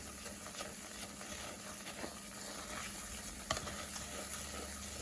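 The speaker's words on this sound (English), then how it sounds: "It's sizzling away." Flour and butter for halva sizzling in a pan, a faint steady crackling fry with occasional soft scraping stir sounds and one brief clink, quiet and continuous.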